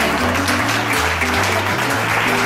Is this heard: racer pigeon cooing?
no